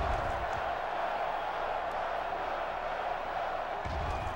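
A stadium crowd roars and cheers at an NCAA Football 06 video game college football match, a dense, continuous wash of noise with low thumps near the end.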